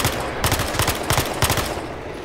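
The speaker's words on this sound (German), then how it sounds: "Die schießen von da hinten." Enemy gunfire in the shooter Battlefield: Hardline comes in short, rapid bursts of automatic shots, several quick volleys crackling loudly over a background rumble.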